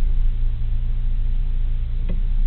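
A Jeep Grand Wagoneer engine rumbles steadily up close while the driver shifts gears, a low continuous drone with a brief click-like transient near the end.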